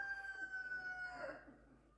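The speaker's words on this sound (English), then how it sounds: "It's one of our chickens" A chicken gives a long drawn-out crow, a single sustained call that fades out toward the end, heard close by at moderate volume with no talking.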